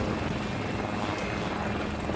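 India's LCH light combat attack helicopter flies past as a steady, broad rotor and engine roar, moderately loud and continuous with no talking.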